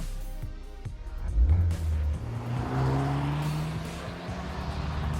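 A Honda Civic Type R engine hums and climbs through the revs as it drives along, steady road noise underneath, with a brief surge of acceleration early on.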